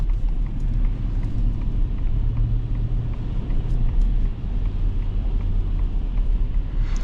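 A Ford F150 XLT with a V8 drives along, heard from inside as a steady low engine drone and road rumble with no clear revving.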